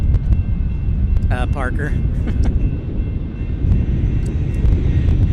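An Airbus A319 airliner roars steadily at San Diego airport, a broad low engine rumble with wind buffeting the microphone, while people talk briefly over it.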